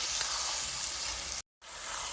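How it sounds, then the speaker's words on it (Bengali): Marinated mutton sizzling in hot oil on top of fried onions, a dense, steady hiss close by that cuts out abruptly for a moment before resuming, with no voices. "তেলের উপর নাড়াচাড়া করে নিয়ে একটু পরে বাটা মশলাগুলো দিয়ে দিব।"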